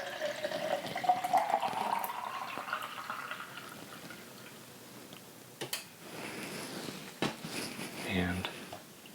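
Liquid chemical pours fast out of a film developing tank in a darkroom, a gushing splash fading after a couple of seconds, followed by scattered clicks and knocks of handling while someone talks.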